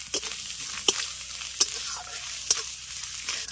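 Chopped coconut frying in oil, a steady close sizzle with several sharp spatula clinks and stirs spaced through it, no one speaking.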